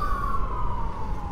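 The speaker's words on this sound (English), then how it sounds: "I'm going to wait for the ambulance or fire engine to pass real quick, because like I said, it's there." An ambulance or fire engine siren passes by, a steady wailing tone that slowly drops in pitch as it goes, over a continuous low traffic rumble.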